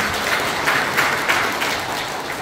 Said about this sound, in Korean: 다시 한번 큰 박수로 부탁드립니다.